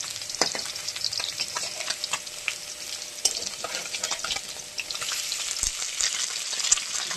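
Khoira fish frying in oil makes a close, continuous sizzle dotted with crisp pops and crackles, steady and busy throughout with occasional stirring knocks.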